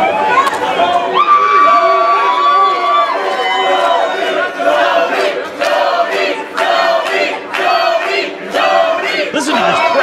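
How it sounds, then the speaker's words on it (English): A wrestling crowd roars and cheers for a newly crowned champion at a live W.O.W event, with loud sustained shouting, chanting and whistles filling the arena throughout. "Listen to this crowd. Looks like they're excited for their new champ."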